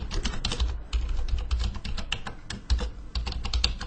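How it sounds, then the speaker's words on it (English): Steady, rapid typing on a computer keyboard, dense clicking keystrokes up close with brief pauses, while data is entered into accounting software; no voices. "Type it in here."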